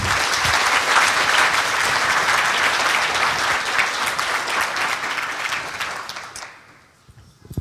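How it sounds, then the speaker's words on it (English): An audience at an indoor conference claps warmly in a steady, dense round of applause lasting several seconds, then tapers off quickly into quiet. "So quick round of applause for all them."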